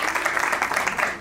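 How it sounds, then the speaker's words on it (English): An audience applauding at a talk, a dense, steady wash of many hands clapping at close to medium distance, brief and unbroken. "Let's have a round of applause,"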